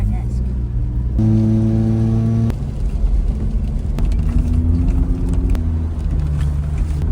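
A car engine hums and shifts pitch as the vehicle drives along a forest track and out onto a forest road, with tonal revving rising and falling over rumbling road noise throughout.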